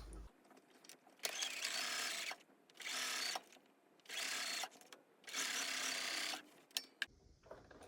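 A sewing machine stitches a dart in fabric in four bursts of steady, close whirring separated by short pauses, with a few clicks at the end.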